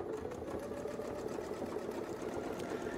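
A quilting machine stitches along a ruler template with a fast, steady mechanical whir and rapid needle chatter, running continuously at close range.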